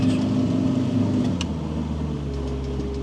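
Outboard boat motor revving on a river during an autumn zander fishing trip in wind and rain, a steady loud low engine drone with a throttle shift partway through.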